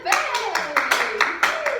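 Several sharp, rhythmic hand claps in quick succession, close and loud, over a speaking voice.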